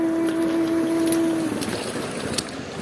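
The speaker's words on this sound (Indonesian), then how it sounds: "aliran sungai." River water flows steadily past in the countryside at the foot of Mount Pesagi, a constant close rushing wash, with a low engine-like hum droning through the first half.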